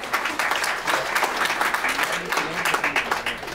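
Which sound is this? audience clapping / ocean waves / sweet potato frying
audience clapping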